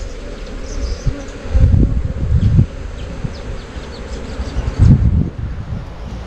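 Honeybees buzz at an apiary hive during a frame inspection, a close continuous drone that swells in louder low-pitched bursts as bees fly past.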